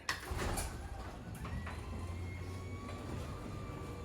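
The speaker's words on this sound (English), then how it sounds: "watch what happens if you open the garage door" A modern retractable garage door opens with a steady low mechanical rumble and faint whirring, rising over a couple of seconds then running evenly at moderate volume, with no talk.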